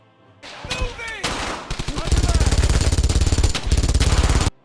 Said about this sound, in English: the MG42 actually does feel ridiculously good every time you get to use it